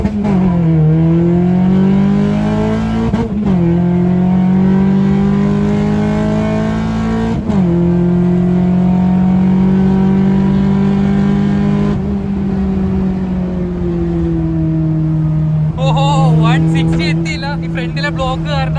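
Maruti Suzuki Zen fitted with a G16B engine, accelerating hard from inside the cabin, its engine roaring loudly and climbing in pitch through several gear changes, each shift marked by a brief drop before the next rising pull.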